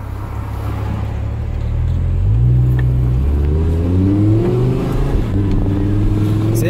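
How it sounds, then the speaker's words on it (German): An Audi R8 Spider convertible pulls away at an easy pace through a town 30 zone with its rear window lowered, the engine's deep hum rising smoothly in pitch as it gathers speed, loud and close. "Da kann man hinten nämlich die Scheibe aufmachen, dass man den Motor besser hört."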